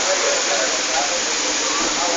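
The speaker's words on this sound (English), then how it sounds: "It's raining" Rain falling on a city street in Vizag: a dense, steady hiss of downpour, loud and close, with a voice speaking over it.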